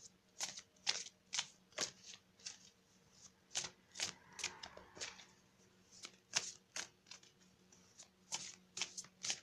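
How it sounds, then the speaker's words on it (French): A deck of energy healing oracle cards is shuffled close by, giving a quiet run of crisp, papery flicks and riffles in an irregular rhythm, with no talking. "on va tirer une carte d'énergie de guérison"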